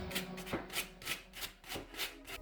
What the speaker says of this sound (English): You don't have to push really hard with sandpaper.